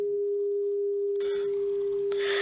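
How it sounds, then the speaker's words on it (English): A quieter pure sine tone hums steadily throughout, with faint broadband clatter and hiss rising beneath it in the second half. "Example of sine wave with quieter sound."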